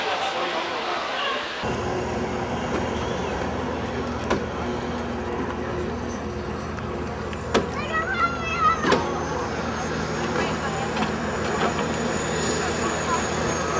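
Aircraft engine noise at the Oshkosh 2008 airshow, a steady broad roar from the flight line with a crowd murmuring and people talking over it.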